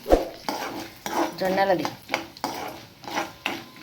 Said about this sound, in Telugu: ఇప్పుడు నేను ఫ్రై చేస్తాను.